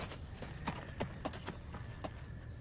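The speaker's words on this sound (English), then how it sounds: "The final horse for this year's hits team is Thunder" Horse hooves clip-clop in a brisk, uneven rhythm of distinct knocks over a low background rumble in a Super Bowl commercial, moderately close and fairly quiet.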